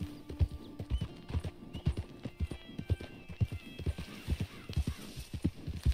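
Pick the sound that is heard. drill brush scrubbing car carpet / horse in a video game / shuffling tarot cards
horse in a video game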